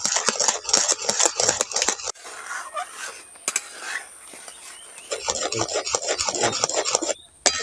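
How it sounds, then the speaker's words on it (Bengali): Spoon scraping and rubbing around a pot as sugar and salt are stirred into raw mango jelly, a steady rasping with brief pauses, close and fairly loud, no talking. "চিনি আর লবণটা দিয়ে এইভাবে নাড়তে থাকবো কিছুক্ষণ।"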